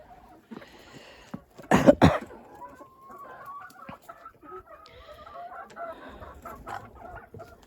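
Hens cluck and murmur just outside a warm coop on a cold, snowy day, a loud burst of squawking early on followed by softer, scattered clucks and calls close by.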